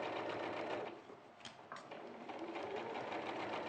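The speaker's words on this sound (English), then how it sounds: "So now you're stitching round, the facing round the armholes." A sewing machine runs steadily as it stitches a facing around the armholes of a garment, a continuous close whirring hum that dips briefly partway through before picking back up to full speed.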